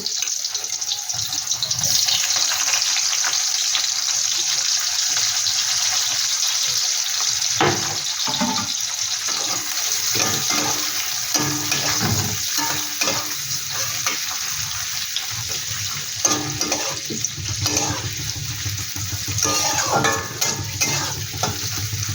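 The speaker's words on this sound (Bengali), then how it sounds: "একটু হালকা করে পেঁয়াজটা আমি একটু ভেজে নেব" Sliced onion frying in a wok for Tangra-style chilli chicken, a steady close sizzle with stirring scrapes and occasional clatter running throughout, no talk.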